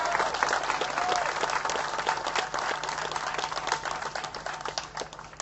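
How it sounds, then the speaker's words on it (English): A large crowd at an outdoor anti-white-supremacy rally in Charlottesville, Virginia, breaks into sustained applause, a dense wash of clapping with scattered cheers and voices mixed in, steady and loud throughout. "for that, you deserve a round of applause for that."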